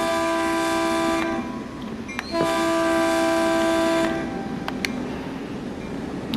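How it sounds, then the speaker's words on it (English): A train locomotive in Train Sim World 2020, with loud sustained horn blasts, two long tones separated by a brief pause, over a steady low rumble of the train running. "you can hear the rumbling of the train,"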